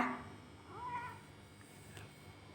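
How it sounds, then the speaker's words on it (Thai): A cat meows once, a short faint call in the middle of a quiet indoor room with low background hum. "ตอนนี้แมวอาจจะมีเสียงแมวแมวอยู่ข้างพี่นะคะ"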